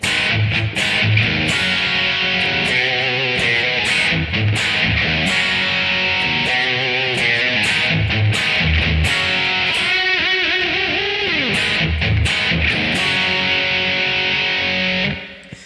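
Overdriven electric guitar plays the chorus riff, with a quick fill in the third round, loud and continuous with steady rhythmic strums and sustained distorted chords.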